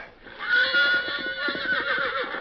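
A horse neighs loudly and close, a long shaky whinny lasting about two seconds with rising and falling pitch, heard alone.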